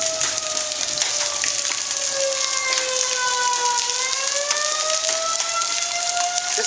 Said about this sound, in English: I said all we need is a tornado, and the siren started going off.